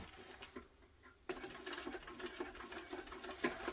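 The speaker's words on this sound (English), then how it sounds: "And so let's top stitch the other side." A sewing machine topstitches a tote bag, starting abruptly after a quiet moment and then running in a fast, steady whirring stitch close by, fairly soft overall.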